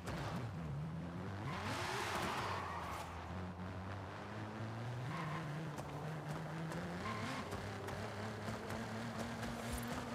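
Video game car engine revs and drones continuously with rising and falling pitch, loud and steady throughout with faint tire skids, no talking.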